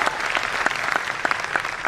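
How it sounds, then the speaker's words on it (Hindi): Audience applause at a Modicare business gathering, a dense wash of many hands clapping close and loud, with scattered sharper claps standing out for the whole stretch and no talk over it. "तालियां होनी चाहिए कि नहीं होनी चाहिए?"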